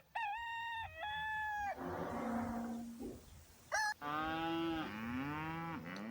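A cow moos in long, loud drawn-out calls close by in a farm setting, interrupted by a brief rooster-like cry, with the lowing resuming strongly at the end.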